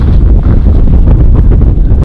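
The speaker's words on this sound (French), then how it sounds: "c'est le bruit du vent" Strong wind on a ridge of El Fuego volcano buffets the microphone in a loud, continuous low rumble and roar for the whole stretch, cutting off abruptly at the end.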